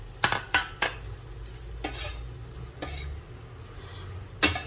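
Frozen peas go into a hot pan of sizzling mixed vegetables for upma. A few sharp clattering hits break over a steady soft sizzle and some stirring, with no voices.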